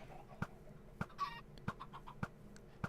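Chickens clucking in a Minecraft chicken farm, short regular clucks repeating about every half second with a brief rattling clatter between them, faint and alone.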